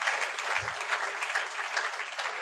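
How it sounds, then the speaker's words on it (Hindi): A church congregation claps loudly and steadily in thanks during a Hindi-language worship meeting, dense applause filling the whole moment with no pauses. "जोरदार ताली बजाकर धन्यवाद दो प्रभु को"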